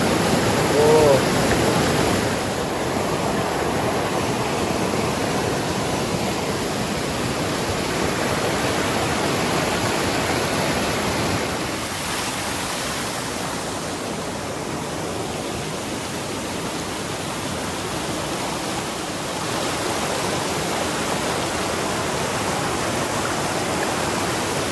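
A cold mountain stream from a spring in Gurez valley, Kashmir, rushes continuously in a broad, steady roar like a fast stream or small waterfall, loud and close throughout, with no talking.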